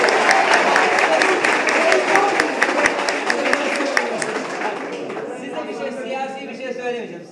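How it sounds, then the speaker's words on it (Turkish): An audience claps in a Turkish debate hall: a dense, fairly loud patter of applause that fades after about four seconds as people keep talking over it. "Arkadaşlar alkışlıyor"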